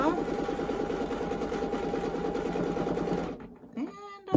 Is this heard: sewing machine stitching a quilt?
yes